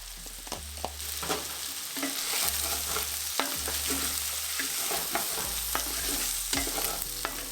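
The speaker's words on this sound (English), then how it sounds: "Stir it up for about 30 seconds and then add your sun-dried tomatoes." Sausages with garlic and sun-dried tomatoes sizzle in a frying pan while a utensil stirs and scrapes them in repeated short strokes over the constant hiss of the frying.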